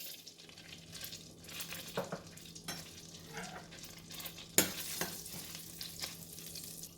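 Fennel seeds frying in butter in a pan for lobster masala, a faint steady sizzle with scattered small pops and a sharper clink partway through, quiet and close, without speech.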